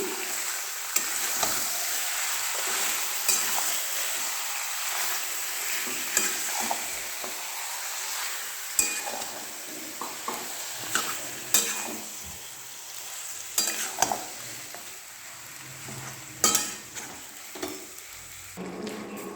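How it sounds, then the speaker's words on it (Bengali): Mutton sizzles steadily in a hot pan with spices while a utensil scrapes and stirs in irregular knocks and clatters, close up, with no talking. "দেখো মাটন ফ্রাই হচ্ছে।"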